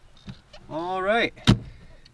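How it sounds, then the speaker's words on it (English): An electric door popper releases and swings open the door of a 1930 Chevy three-window coupe, a brief motor whir that rises, then a sharp solid clunk, close and clear with no talk. "we're going to reach in and hit the door popper here."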